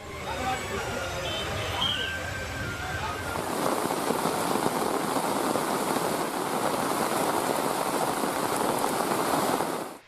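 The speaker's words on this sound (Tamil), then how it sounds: "திண்டுக்கல் மாவட்டம் பழனியில் நேற்றிரவு இடியுடன் கூடிய கனமழை பெய்தது" Heavy rain during a night thunderstorm in Palani, Dindigul district, pours down as a dense, steady hiss that grows stronger partway through and continues unbroken.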